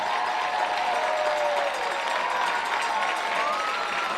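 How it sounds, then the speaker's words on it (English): Crowd applause at a high school football game between Westerville Central and Central Crossing, a steady distant wash of clapping and cheering from the stands with a faint public-address voice above it. "A big round of applause for our latest examples of athletic prowess"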